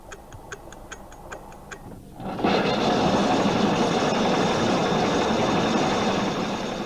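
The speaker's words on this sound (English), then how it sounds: "satisfying moment when you wind the watch for the first time" A handmade watch ticks faintly at first with a quick, even rhythm after being wound for the first time, then a broad steady rushing noise swells in and covers the ticking for the rest.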